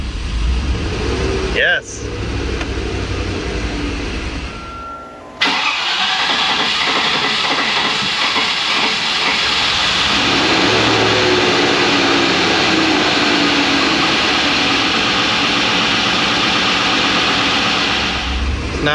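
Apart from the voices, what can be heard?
Land Rover Discovery engine starting and running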